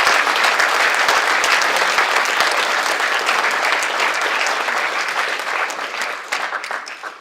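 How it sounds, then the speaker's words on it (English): Dense, steady applause from an audience at a business excellence awards ceremony, sustained throughout without speech and tapering slightly toward the end. "Give him a big round of applause"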